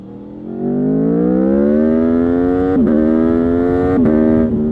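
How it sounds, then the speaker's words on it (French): An Aprilia V4 motorcycle engine revs up and holds a high, steady wail, rising gradually in pitch, with two brief dips like quick throttle blips; loud and close. "Le V4 Aprilia est pour moi le moteur qui délivre la plus belle bande-son de toute l'industrie de véhicules existants"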